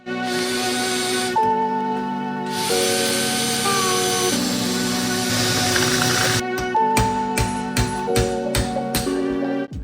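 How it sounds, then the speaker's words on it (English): A power drill whines steadily, its pitch shifting as it bites into a metal pin from a 1302/1303 Super Beetle interior part, with a burst of short, stuttering pulses toward the end. "now the drill won't slide everywhere. It will grip right away into that pin."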